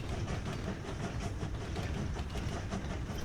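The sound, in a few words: trains running on tracks in the video game Train Valley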